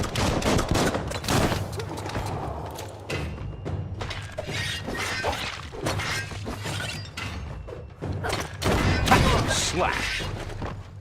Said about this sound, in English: Bullets everywhere.